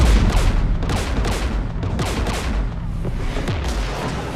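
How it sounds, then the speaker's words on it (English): Dense bursts of in-game gunfire in Mass Effect 3 during a fight against Geth forces near a jamming tower, loud and continuous with overlapping shots and booms and no talk. "We're taking fire."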